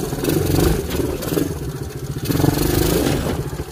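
An off-road ATV engine revs in uneven surges, rising and falling loudly and close by, with a rough mid-pitched growl and no talk over it.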